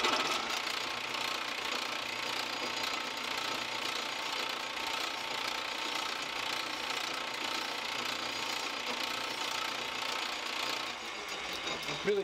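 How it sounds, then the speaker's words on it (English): File chamfering the outer edge of a workpiece spinning in a lathe, a continuous raspy hiss over the low hum of the running machine, steady and close, fading slightly at the end. "Chamfer for the outside with a file."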